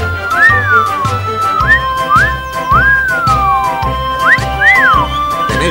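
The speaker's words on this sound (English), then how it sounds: "Whenever they saw a board, guard, driver and passengers all whistled." Several people whistle together in rising and falling, slide-like tones over a steady rhythmic chugging beneath, loud and continuous with no talking.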